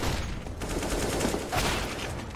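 Rapid bursts of gunfire in Counter-Strike: Global Offensive during a competitive match, a continuous dense volley of shots filling the whole moment with no talk over it.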